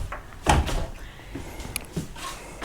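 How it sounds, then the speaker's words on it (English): A pocket door in a 2023 Grand Design Momentum 410TH fifth-wheel RV slides with a soft thump and rolling rumble, followed by quieter rattles and a second light knock, close by with no talking. "this is a pocket door"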